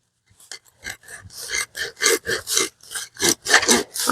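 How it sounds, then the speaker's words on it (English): A small pruning saw rasps through the pot-bound roots of a potted fern, with a quick series of about a dozen close, scratchy push-and-pull strokes that speed into a steady rhythm. "So I'm just going to take the little pruning saw again and go through that"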